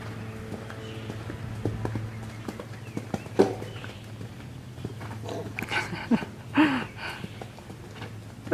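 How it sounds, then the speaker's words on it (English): A horse canters toward a small cross rail in a riding lesson, with rhythmic muffled hoofbeats and a few sharper thuds at mid distance, over steady background hum. "that's not a bad canter, especially whenever you're talking about a little cross rail"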